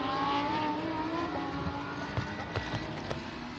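Lamborghini Super Trofeo race cars at Portimao, a distant steady engine drone with faint shifting tones and a few small bumps, running under commentary.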